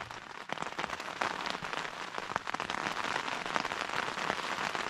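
Heavy night rain patters densely and without pause on a shelter high on Mount Kerinci, a loud, steady spray of drops with no voices.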